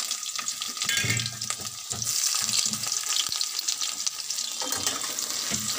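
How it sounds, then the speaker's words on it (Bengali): Cloves, cinnamon and cardamom sizzling in a little oil, then onions added for a mutton curry, with a continuous frying hiss broken by stirring scrapes and clatter. "ফোড়নটা একটু ভেজে নিয়ে পেঁয়াজ দিয়ে দেবো।"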